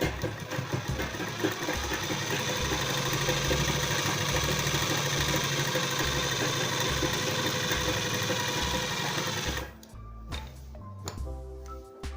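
Close and loud, a sewing machine stitches a midi dress with a steady rapid chatter for about ten seconds, then stops, leaving a few brief, quieter mechanical clicks and bursts.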